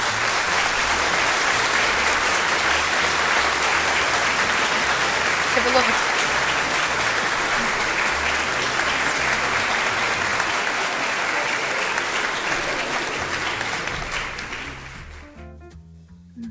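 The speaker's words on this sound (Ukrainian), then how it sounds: "Вітайте оплесками!" Sustained applause from an audience at a film awards ceremony, loud and steady for over a dozen seconds before fading out, with a brief spoken word near the end.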